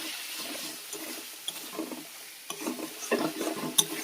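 Spices with salt, turmeric and chilli powder sautéed for aloo dum, a soft close sizzle with quick scraping and stirring strokes in the pan.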